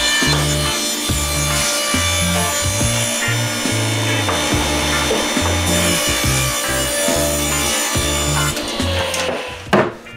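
Wooden boards being cut to width with a power saw in a workshop, a loud close whine with repeated bursts of cutting as each board passes through, ending with a brief clatter.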